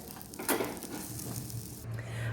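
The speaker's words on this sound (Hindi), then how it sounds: "हमें इसी तरह से इसमें किशमिश और चिरौंजी को हल्का हल्का भून लेना है" Raisins and chironji lightly roasting in hot ghee, a soft continuous sizzle with a brief clatter of a spoon against the pan near the start.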